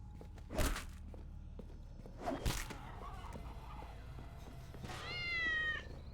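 A cat meows in a zombie apocalypse prison-escape video game, a clear rising meow near the end following a couple of sharp whip-like impacts and scattered footsteps.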